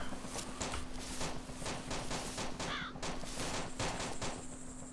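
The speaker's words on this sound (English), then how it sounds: "Sounds like a PKP as well." PKP machine gun firing in DayZ, a dense stream of rapid gunshots, loud and continuous, with a brief bird caw partway through.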